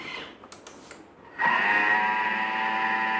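A Thermomix mixes corned beef fritter batter on speed 4, starting abruptly after a few light clicks and settling into a steady, loud, high-pitched motor whir.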